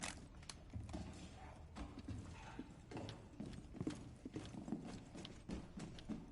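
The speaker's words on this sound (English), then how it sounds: "Footsteps." Footsteps in Rainbow Six Siege, a run of soft, muffled thuds and scuffs in a steady walking rhythm that stays fairly quiet under a low background hum.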